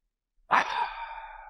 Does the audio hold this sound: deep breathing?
yes